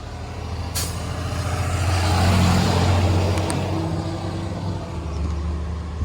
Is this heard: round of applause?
no